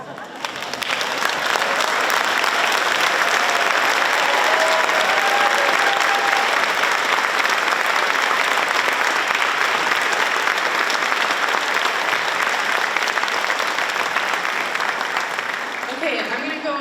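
Sustained, loud applause from a large school audience for the faculty, steady clapping filling the room for the whole stretch after a brief start.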